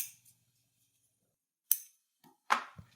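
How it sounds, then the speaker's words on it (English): Scissors snipping through backpack webbing, a few sharp isolated clicks and cuts spaced across a quiet moment, close and fairly soft. "If you want to see the most unsatisfying scissor cut,"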